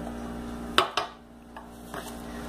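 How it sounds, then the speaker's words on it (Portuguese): Wheat flour being stirred into a potato-based pizza dough in a bowl, with two sharp utensil knocks against the bowl close by, then softer scraping and stirring sounds. "E vou mexendo"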